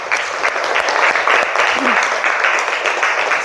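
A classroom of students claps together to seal a class agreement, giving bright, brisk, fairly close clapping that continues evenly throughout, with a brief voice briefly audible over it.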